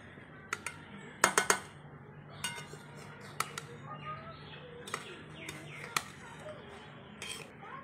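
Fish frying in a pan being turned with a metal utensil, a few light clinks and scrapes spread over a quiet background, with one quick cluster of sharp taps near the start.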